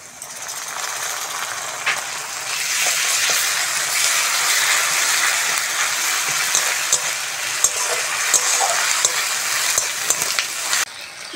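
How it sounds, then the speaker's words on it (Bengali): Chopped onion and ginger-garlic paste fry in oil in a pan, a steady close sizzle that swells after the first couple of seconds, with occasional scraping and stirring clicks throughout. "কুচনো পেঁয়াজ, আদা রসুন বাটাটা দিয়ে দেবো।"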